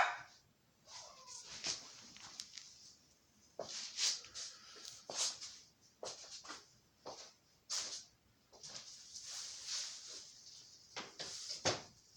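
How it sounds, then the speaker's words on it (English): Dogs bark in a series of short, sharp, irregular bursts with brief pauses between them. The barking is moderately loud and comes from nearby. No one speaks. "Dogs barking."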